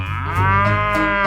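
A cow from a 3D animal slide video game lets out a single long, loud moo that rises slightly toward the end, with no one talking.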